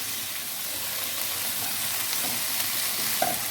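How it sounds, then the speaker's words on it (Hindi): Vegetables for a Chinese biryani fry in a pan with a loud, steady sizzle and hiss, while occasional soft scrapes of stirring rise above it. "तो हमें इनको अब फ्राई करना है ताकि ये थोड़ा सा सॉफ्ट हो जाए"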